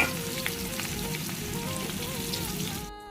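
Dried and fresh chillies with onions sizzle and fry in hot oil, a dense, steady crackling hiss with scattered pops throughout, close and loud, cutting off just before the end.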